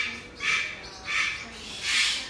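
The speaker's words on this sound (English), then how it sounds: "You guys can hear that screaming in the background. That is a cockatoo." Three loud, harsh cockatoo screeches repeat at roughly even intervals, each shrill burst standing out clearly over quiet background noise in a bird shop.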